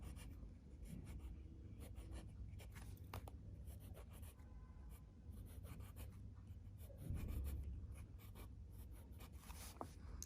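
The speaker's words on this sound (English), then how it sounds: "Then we will draw 6 stars." Pen or marker scratching across paper while six stars are drawn for a children's math array lesson, a steady close scribbling texture with short strokes and no talk.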